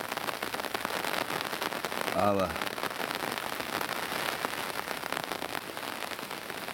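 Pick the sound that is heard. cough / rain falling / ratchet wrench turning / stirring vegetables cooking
rain falling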